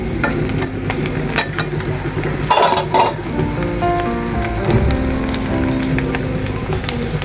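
Fish fries in a pan with a steady, rain-like crackling sizzle, close and fairly loud, with a few brief sharper pops and clatters partway through.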